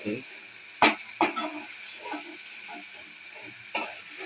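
Chicken fries in a pan with a soft, continuous sizzle, broken by a few sharp clinks and scrapes of stirring. A voice talks quietly over the cooking.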